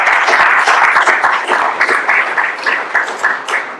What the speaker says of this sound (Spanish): un aplauso por nuestros invitados